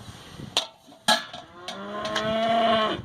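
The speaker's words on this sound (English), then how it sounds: "Wait for those cows to start roaring." Cows moo loudly and close by, a long drawn-out low call swelling at the end, after a few sharp knocks, on a home brewing day.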